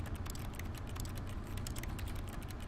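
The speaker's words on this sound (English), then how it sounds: "I'm making keyboard sounds." Rapid, steady keyboard typing from mashing the E use key in The Stanley Parable, a dense run of close clicks filling the whole stretch without pause.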